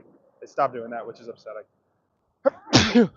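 One sharp sneeze bursts out loudly and close after a short spoken phrase, with a brief breathy intake just before it.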